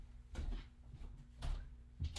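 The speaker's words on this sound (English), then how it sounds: "hold on, let me shut this door real quick." A door being shut in a room at home, with a few soft knocks and thuds close by, muffled and low.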